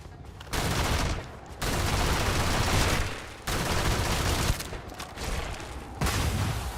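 Bursts of dense gunfire from the space game Starfield come in loud, sustained volleys of several seconds each, separated by short gaps, close and with no talk.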